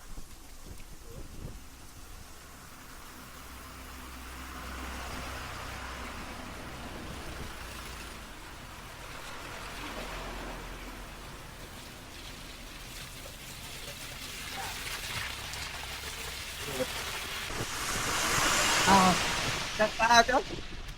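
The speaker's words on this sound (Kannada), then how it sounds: "ಮಳೆ ನೀರು ಬೀಳ್ತಾ ಇರುತ್ತೆ." Heavy rain falling along the Tirupati ghat walkway: a continuous broad wash of rainfall with gusty swells, growing louder toward the end, with people talking faintly underneath.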